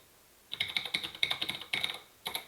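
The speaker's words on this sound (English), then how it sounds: "I can type." Quick bursts of typing on a computer keyboard, close and clear, with clattering keystrokes in short runs separated by brief pauses.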